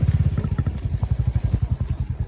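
A Royal Enfield Bullet motorcycle rides through flooded water on a road, its single-cylinder engine thumping in a steady, loud, rapid beat close by with splashing clatter over the top.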